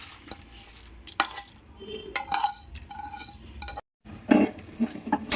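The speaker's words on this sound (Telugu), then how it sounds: "మెంతులు వేసుకోవాలి. దోరగా వేయించుకోవాలి." Fenugreek seeds being roasted in a pan alongside mustard seeds for gongura pachadi, with a brief dropout partway through. Close, irregular scraping, stirring and metallic clinks sit over a faint sizzle.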